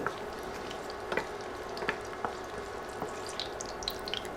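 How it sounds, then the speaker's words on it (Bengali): Cinnamon sticks, dried chillies and bay leaves fry in hot oil, giving a soft, steady sizzle with light clicks and pops as the spices are stirred. "এখন নেড়ে কয়েক সেকেন্ড মশলাগুলো ভেজে নেব"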